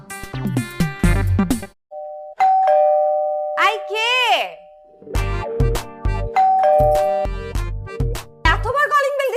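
A doorbell chimes ding-dong several times in quick succession, loud and close, with people talking between the rings.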